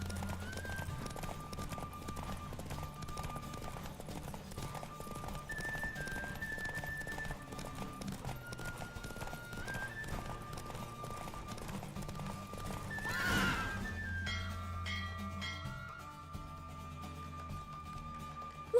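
Rhythmic hoofbeats of a galloping horse in The Witcher 3: Wild Hunt clatter steadily for a long stretch while the horse neighs now and then, with a loud whinny near the middle.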